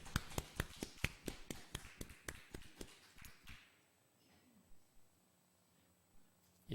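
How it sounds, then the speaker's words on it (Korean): A church congregation claps at the end of a Sunday service, sharp distinct claps in a steady rhythm that thin out and stop after a few seconds, leaving quiet room tone with a few scattered taps. "우리 박수로 우리 하나님께 영광을 올려드리십시오"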